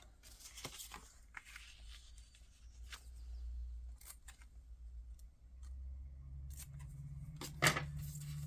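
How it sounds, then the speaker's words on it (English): Scissors snipping through paper during a Stampin' Up card craft project, a few quiet close-up cuts spread across a soft room background, with one sharper snip near the end. "And then I'm going to cut it here"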